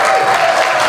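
Steady audience applause at an improv theatre show, a full room clapping loudly and evenly for the whole moment.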